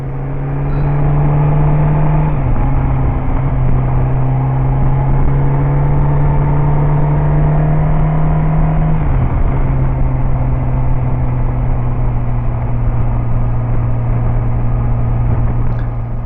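A Kawasaki ZX-10 sport motorcycle is ridden at a steady pace, giving a loud, continuous engine drone with wind noise and a couple of shifts in pitch where the rider changes gear.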